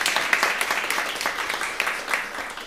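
A concert audience applauds a guitarist being introduced on stage at a guitar show, continuous mid-level clapping that carries on evenly throughout with slight rises and falls.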